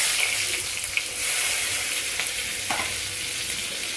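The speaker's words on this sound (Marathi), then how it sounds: "कांदा छान परतून घेऊ" Chopped onion sizzles loudly in hot oil tempered with cumin seeds, a dense, steady hiss of frying with faint scrapes of stirring, close and continuous throughout.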